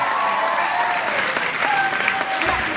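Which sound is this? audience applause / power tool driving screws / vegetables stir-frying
audience applause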